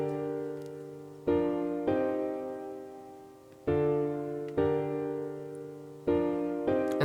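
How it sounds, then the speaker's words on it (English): Piano chord progression for a hip-hop beat, sustained chords struck roughly every one to one and a half seconds, each ringing and slowly decaying before the next, clear and alone with no voices. "Now, I started this beat with a piano chord progression"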